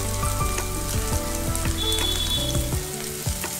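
Onions, green chillies and a pinch of salt sizzle steadily in hot oil in a pan, a loud continuous frying crackle with occasional stirring clinks and no speech.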